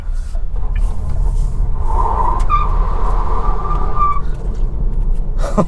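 An MG Windsor car with 200 Nm of torque pulls forward under throttle, with a steady low road and cabin rumble and a faint rising whine, close and loud, without speech.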